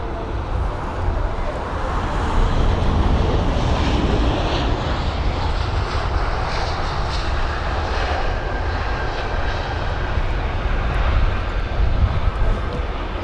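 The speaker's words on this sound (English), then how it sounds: "the aircraft that we'd just seen arrive was the British Airways A320-200 from Palermo with the retrofitted winglets on it, or sharklets" A British Airways A320-200 fitted with sharklets, arriving from Palermo at London Heathrow, produces a steady broadband engine roar that stays loud and constant throughout, with faint traffic noise underneath.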